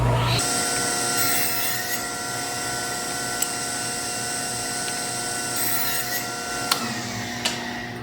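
Wood being cut for a birdhouse roof on a table saw, a steady whining drone with a brief swell near the end and a few small knocks, heard alone without talk.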